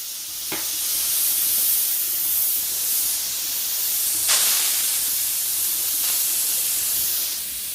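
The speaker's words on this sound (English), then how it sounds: "once I did that, the steam started to come out and my pressure is starting to drop" Steam hissing loudly and steadily from a pressure canner of home-canned potatoes after its weight gauge is removed, broken by a few brief, sharper bursts.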